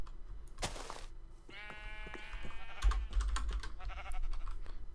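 Sheep bleating in a farming video game, a sharp cry followed by a longer wavering bleat, heard alongside rapid clicking keyboard taps.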